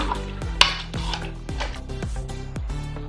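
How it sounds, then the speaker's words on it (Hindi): A spoon scrapes and clinks around a pot in a steady rhythm, stirring water into mutton karahi curry, with a sharp metallic tap early on. "पानी शामिल करने के बाद हम इसे अच्छी तरह से मिक्स करेंगे"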